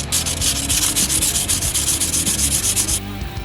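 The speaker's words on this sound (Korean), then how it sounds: "죽음의 사포질을 통해 매끄럽게 해줄 겁니다." Sandpaper rubs a paper-clay hammer head smooth in fast, even back-and-forth strokes, close and steady with no voices, stopping just before the end.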